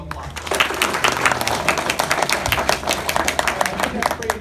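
A convention crowd at a live gaming Q&A panel breaks into loud, sustained applause for a vote, dense clapping steady throughout with a few shouts mixed in.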